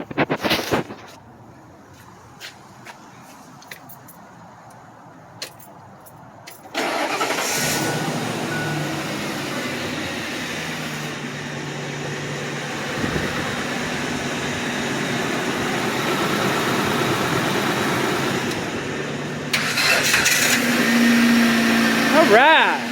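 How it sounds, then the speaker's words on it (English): Van engine started with a jumper in cold winter weather: a few clicks and bumps, then a sudden loud roar that settles into a steady, close idle, with people talking over it. "Dad, we need to start the van."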